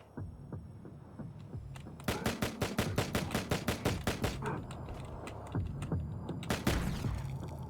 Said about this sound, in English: I'll use the SMG just to play out with the weapons